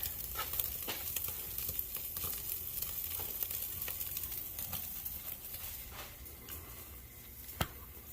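Strip steak sizzles on an indoor grill with a continuous, soft crackling hiss and scattered pops, steady and close throughout.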